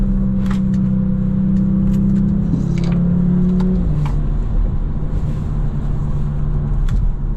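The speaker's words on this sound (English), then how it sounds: "Oh, that B58 grunt" BMW M240i with a B58 engine accelerating, heard from inside the cabin: a loud, steady low engine drone with a shift in pitch partway through, continuous throughout.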